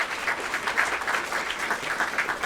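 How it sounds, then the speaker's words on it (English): An audience at an interfaith symposium on end-of-life care breaks into steady, dense applause that fills the room evenly, with a few voices faintly underneath. "give yourselves a hand clap"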